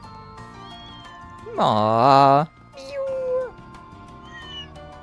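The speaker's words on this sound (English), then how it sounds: "But it was all just different variants of meow." Several cats meow in a video game world, one loud drawn-out meow followed by a shorter one and faint mews, while a person softly voices a brief reaction over background music.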